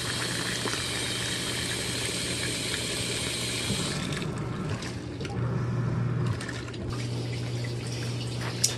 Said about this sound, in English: Okay, so now it's rinsing.